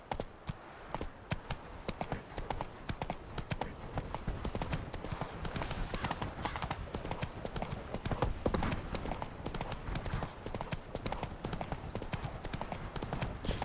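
Roach the horse's hooves clip-clop steadily in a video game, a dense run of close, crisp hoofbeats lasting the whole stretch, with an occasional faint whinny.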